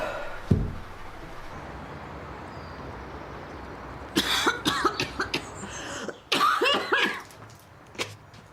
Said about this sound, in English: How long have you had the cough?